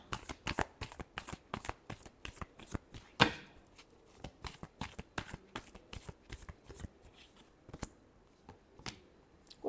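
A tarot deck is shuffled by hand in a rapid series of crisp, close card slaps and riffles, a dense rhythmic patter lasting several seconds with one louder snap partway through.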